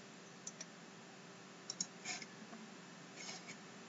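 A computer mouse gives a few soft, sparse clicks, some in quick pairs, against an otherwise near-silent background.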